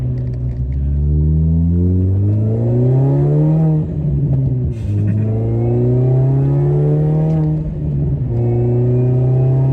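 A Mini Cooper S R53 supercharged engine accelerates hard through the gears, loud and close, with revs climbing in long rising sweeps interrupted by quick, short shifts, recorded from inside the car.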